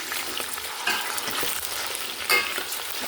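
Onions frying and being stirred in hot oil for biryani, a continuous bright sizzle with scraping stirring strokes, close and steady, no talk.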